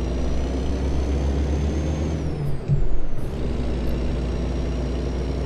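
Heavy truck in American Truck Simulator with a winter weather mod, a steady low diesel drone with a loud air-brake hiss partway through, then the engine rumble continues.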